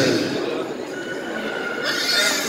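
A stallion neighs at a stallion show in Reims, with a drawn-out whinny rising from a dense hall-like background of noise and muffled voices.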